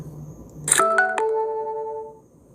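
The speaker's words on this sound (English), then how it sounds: "Why is my phone ding-a-ling?" A phone notification chime rings out clearly, a quick cluster of bright clicking tones then ringing sustained pitches that fade over about a second and a half, with no one talking.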